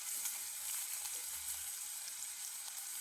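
Sliced onions, curry leaves and green chillies dropped into hot oil for kothu chapati, a soft, even hiss of frying held at low level throughout with faint bubbling.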